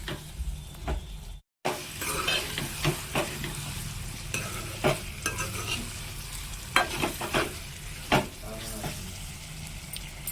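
Bottle gourd curry with chili powder being stirred in a pan, a continuous sizzle under repeated scraping and clinking strokes of a spoon, close and busy, with a brief silent gap near the start.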